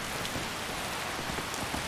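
Steady rain pours in Skyrim Special Edition, a dense, even hiss of falling drops with faint patters, loud and continuous throughout.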